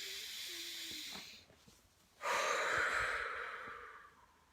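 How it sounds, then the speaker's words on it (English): A deep breath during a guided meditation, heard up close as a long, airy inhale, a brief pause, then a louder, fuller exhale hissing out for about two seconds. "Deep breath."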